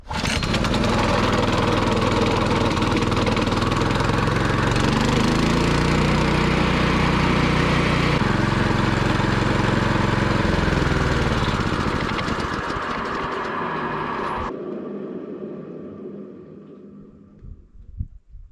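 A small Chinese gasoline engine on firewood-processing equipment runs loud and steady, then is stopped with the choke lever, so the roar sputters and fades away over the last few seconds.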